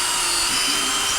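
A DeWalt Atomic 20V MAX brushless drill bores with a steel bit, a steady high-pitched whine running without a break, close and loud, with no talking.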